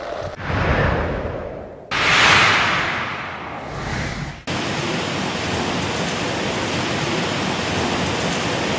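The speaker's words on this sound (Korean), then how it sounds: "현재 여기 신터지대는 이렇게 세찬 바람과 함께 많은 양의 비가 내리고 있습니다." Heavy rain and strong wind from Typhoon No. 10 lash open lowland in North Korea, forming a loud, continuous broadband roar with surging gusts that swell and drop before settling into a steady downpour.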